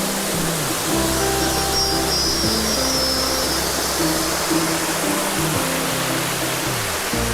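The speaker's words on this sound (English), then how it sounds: "More waterfall." A waterfall on Koh Samui, Thailand, roars with a steady, dense rush of falling water that fills the whole clip, while a low droning hum shifts underneath.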